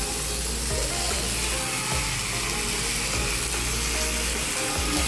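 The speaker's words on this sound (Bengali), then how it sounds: "দেখুন, একটা একটা করে আমি তাওয়ার মধ্যে দিয়ে দিচ্ছি।" Paneer tikka pieces sizzling on a hot tawa beside marinated chopped tomato, a dense, steady crackle filling the clip loudly and continuously, with no voices.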